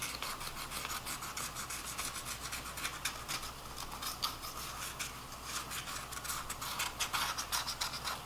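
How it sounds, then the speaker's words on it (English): Permanent marker drawn across paper in a craft project, a quiet, close scratchy rubbing with rapid repeated strokes throughout. "let me outline that line a little bit with a permanent marker"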